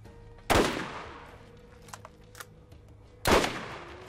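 Gunfire in the Borderlands shooter: two loud, close single shots roughly three seconds apart, each a sharp blast with a fading tail, and faint distant pops and game noises in between.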